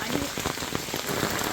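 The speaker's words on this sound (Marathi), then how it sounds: "पाऊस खूप तुफान पाऊस आहे." Heavy monsoon rain pours down steadily at a hillside cottage resort in Mahabaleshwar, a dense close hiss of drops hitting surfaces with no pause.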